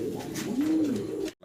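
A fancy pigeon, among Green Neck Budapest and Gorra birds, gives one close, low, rising and falling coo over a quiet background. A brief break follows near the end.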